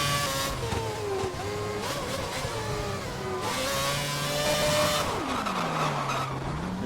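Race car in the F1 2011 game at a Spanish circuit, accelerating out of a corner too early on ruined rear tyres; a loud, continuous high engine whine with pitch rising and falling, then a downward sweep near the end, with no talk.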